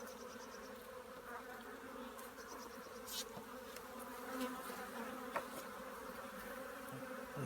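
Honeybees buzz steadily during a hive inspection, a close, continuous drone of many insects with faint scattered clicks and bumps, no talk.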